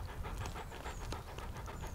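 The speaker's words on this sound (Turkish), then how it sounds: "Bu Anadolu çoban köpeği kurda kuşa gider, hayvanları çok iyi takip eder." A four-year-old Anatolian shepherd dog pants rapidly and steadily up close in the mountains, a quick rhythmic huffing that goes on without a break over a low background rumble.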